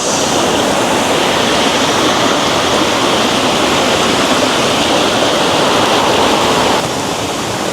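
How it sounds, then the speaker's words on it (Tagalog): A loud, steady rush of a mountain stream flowing near hidden falls fills the whole clip, a close, constant stream roar with no voices. "Batis."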